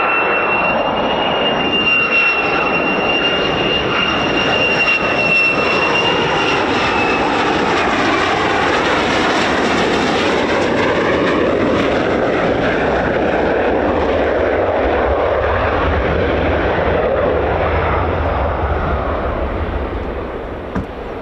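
A fighter jet, an F-15 or F-35, lands at RAF Lakenheath on an instrument approach, its loud, steady jet roar with a high whine sustained for about twenty seconds before easing slightly at the end.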